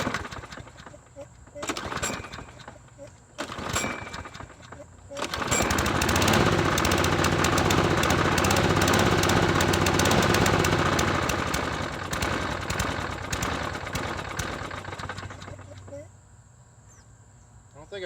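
A 2010 Troy-Bilt 21-inch push mower running low on gas sputters through brief bursts, then catches and roars loudly up close for about ten seconds before fading and dying, with a voice briefly audible.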